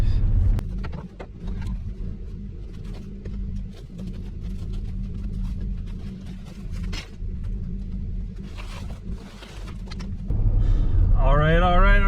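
A truck towing a spinning device in its bed drives along, its engine a steady low rumble throughout, with some clatter and a louder surge near the end.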